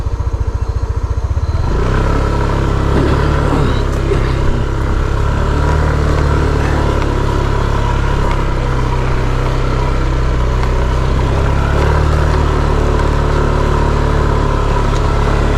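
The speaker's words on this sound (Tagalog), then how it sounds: "Kaya naman ng motor yan." A motorcycle labours uphill with a loud, close engine roar that rises after a brief start and holds steady, with some rattling clatter.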